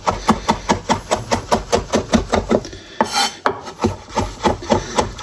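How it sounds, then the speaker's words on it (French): A knife chopping vegetables finely on a wooden board for Brazilian vinagrete salsa, a fast, even run of close, crisp knocks with a short pause and scrape midway. "Donc on va hacher ça fin"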